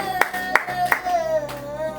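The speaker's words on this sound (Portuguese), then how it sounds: "Aplauda ao Senhor Jesus Cristo" A church congregation claps during a worship service in a few sharp, evenly spaced claps, about one every third of a second, over a sustained musical tone, close and moderately loud.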